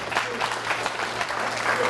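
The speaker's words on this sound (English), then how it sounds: "give yourself a round of applause." An audience claps together in a steady, dense round of applause at a talk in Sedona, even and sustained from start to finish, with a faint low hum underneath.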